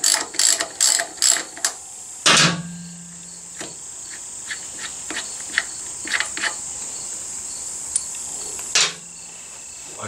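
A ratchet loosens the 12mm bolt on the rear brake caliper of a Honda Africa Twin motorcycle. The rapid clicking is loud and close at first, then gives way to softer intermittent ticks and light handling noises.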